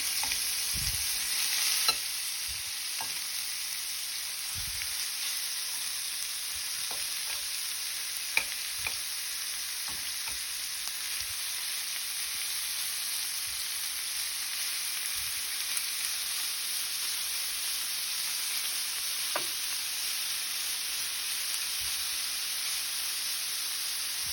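Beef steak fries in a tablespoon of oil in a preheated skillet, a loud, constant sizzle and hiss with occasional soft clicks and scrapes of movement in the pan.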